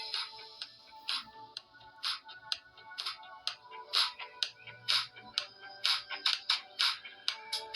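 A ringtone plays through the single bottom-mounted speaker of a vivo Y35 phone, a bright plucky melody of quick repeated notes, clear and steady with little bass.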